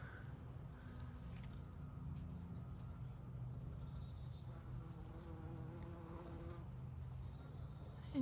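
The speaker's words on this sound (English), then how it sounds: "There's a bee right here." A bee buzzes among cosmos flowers in a late-season garden, a steady soft hum running low throughout the clip with faint bird chirps above it.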